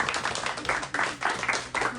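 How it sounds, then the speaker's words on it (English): Brief round of applause from a small group at a 21st birthday celebration among brass band members, a few bursts of clapping over about two seconds mixed with voices. "Another round of applause, Phil."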